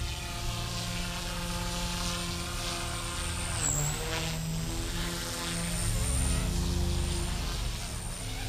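Blade 150S radio-controlled helicopter in flight, a continuous buzzing rotor and motor whine with a high pitched tone that dips briefly midway, holding steady and fairly loud throughout.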